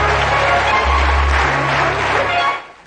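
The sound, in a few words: audience applause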